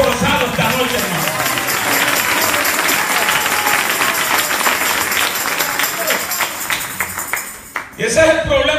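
A church congregation applauds during a sermon, a dense, steady wash of many hands clapping that holds for several seconds before thinning out, with a voice briefly breaking through near the end.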